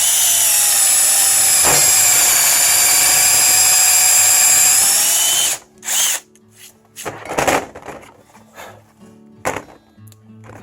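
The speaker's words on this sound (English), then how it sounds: "I'm going to just drill a hole." A power drill whines loudly and steadily as it bores a hole into a wood bowl blank, then stops, followed by scattered knocks and clattering.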